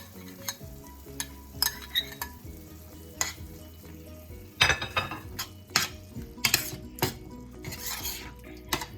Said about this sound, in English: I'm just mixing